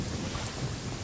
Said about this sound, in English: The rain is not going away.